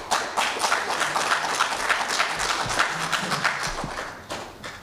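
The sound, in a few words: audience applause at a candidate forum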